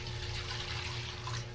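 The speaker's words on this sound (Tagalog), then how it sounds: "Dagdagan natin ulit ng tubig." Water is poured into a cooking pot while pancit bihon is being made at home, a soft, steady splashing and trickling that continues through the moment without pause, moderately close and fairly quiet, with no one talking over it.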